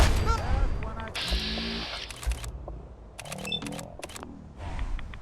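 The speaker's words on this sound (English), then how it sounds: "That sounds like he may have a harpoon gun." Gunfire in Fallout 4's Far Harbor swamp, heavy sharp shots from a harpoon gun, several separate blasts scattered among combat noise while players talk over it.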